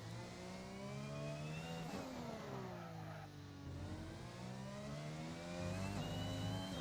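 Simulated F1 car engine in the F1 2021 racing game, a loud, steady high-pitched whine that repeatedly climbs in pitch through each gear, drops sharply at upshifts, then rises again.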